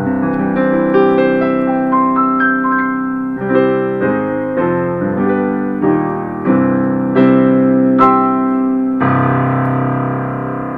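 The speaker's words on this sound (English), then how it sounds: "This really has a big full sound enhanced by a 60-watt sound system and with the recorded sound of the Yamaha 9-foot CFX concert grand piano" A Yamaha Arius YDP-184 digital piano voiced with its sampled 9-foot CFX concert grand, heard through its 60-watt speakers, plays a full, resonant passage of rolling chords and melody notes, close and steady with no talk.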